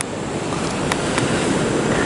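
Steady broadband roar of ocean surf on a beach, loud and continuous, with wind buffeting the microphone and no talk.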